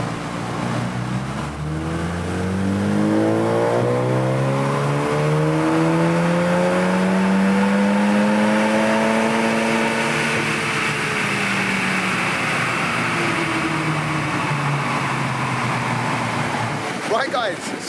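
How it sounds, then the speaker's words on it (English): A Seat Leon Cupra on a dyno revs up through a long sustained pull, engine tone climbing steadily for about ten seconds and then dropping away as it winds down, loud and close. "get it on the dyno, run her in her current state, see what she makes"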